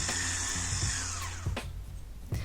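A weak, low-power hand mixer whirs steadily as it whips egg yolks with sugar, its motor pitch sliding slightly, with a couple of brief knocks of the beaters against the bowl near the end.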